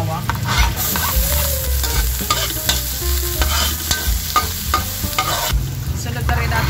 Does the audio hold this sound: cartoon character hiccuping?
no